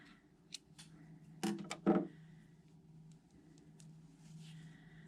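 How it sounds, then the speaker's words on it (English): Scissors cutting a yarn loop while crocheting a yoyo bag: two quick, close snips in a row against a quiet room with faint soft handling noises. "Now I left a loop here, but I am going to cut mine"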